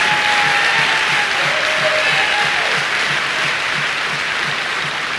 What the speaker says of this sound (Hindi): इस मातृभूमि के लिए एक बार जबरदस्त तालियां हो